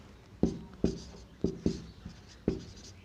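Marker or chalk strokes on a board during a Hindi-medium class 12 maths lesson, five or six sharp, separate taps and scrapes, close and distinct over a quiet room hiss.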